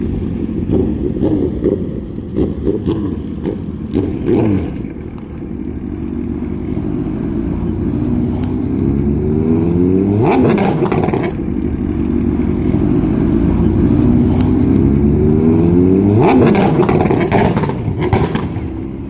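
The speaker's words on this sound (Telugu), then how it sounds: "ఎట్లా స్కూటర్ సౌండ్" Engines rev and rumble continuously as scooters pass nearby in Kuwait, pitch rising and falling, with occasional sharp popping bursts.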